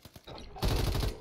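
A mortar strike in a video game lands as a sudden heavy, rumbling blast after light clicks and movement, close and loud, with a brief burst of rapid crackling gunfire around it.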